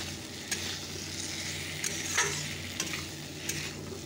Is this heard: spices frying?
yes